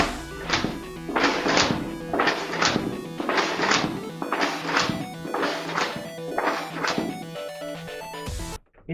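Nerf Tri-Strike foam blaster slam-firing a rapid burst of about eight loud, close thunking shots in a steady rhythm, with no talk, ending abruptly.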